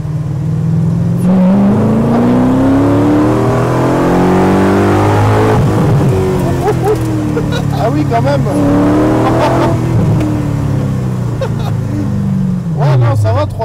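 A powerful 300-horsepower Ford GT40 engine revs up and down repeatedly, loud and close, with rising and falling pitch; a voice briefly speaks over it.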